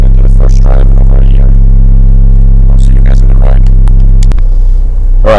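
A manual car's engine idles steadily, loud and close, running on its first start after sitting for years; a deep low rumble holds throughout, with clatter and a shift in tone near the end as people talk over it.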